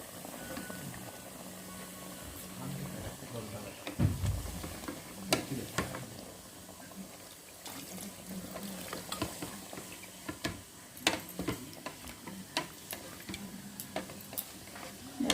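Chicken and potato curry cooks in a rice cooker, giving a soft, steady bubbling simmer broken by scattered clicks and taps of a spoon stirring against the pot, with a louder knock near the fourth second.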